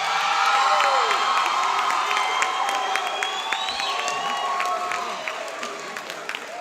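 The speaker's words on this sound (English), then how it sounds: "So class 2016, please stand up and give yourselves a round of applause." At the Innovations High School 2016 graduation ceremony, the graduating class and crowd applaud, cheer and whoop loudly and continuously, with shouts and whistles over sustained clapping.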